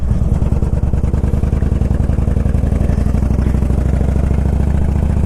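An ultra classic motorcycle engine idles up close, a loud, steady, low throbbing rumble with a fast even pulse and some mechanical clatter.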